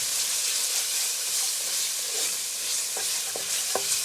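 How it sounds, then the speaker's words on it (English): Curry paste frying in a pan for goat curry, a loud steady sizzle and hiss close by, with a few light stirring clinks toward the end and no talk. "Doesn't take much to fry up the curry paste."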